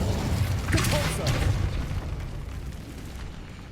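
Compulso spell blast cast in Hogwarts Legacy, a single heavy boom with a sharp burst that rolls off into a fading low rumble, loud and close.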